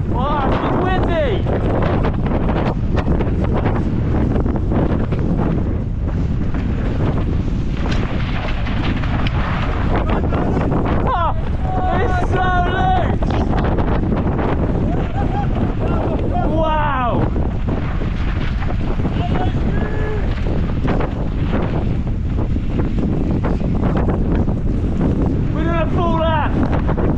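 Loud, constant wind buffeting the microphone with rumbling gusts at a downhill slalom mountain bike race at Sea Otter, while voices talk and shout intermittently underneath.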